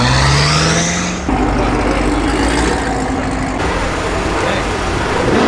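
A Honda NSX drives past loudly at a TX2K car event, its engine pitch rising and then falling, with crowd noise and raised voices mixed in close by.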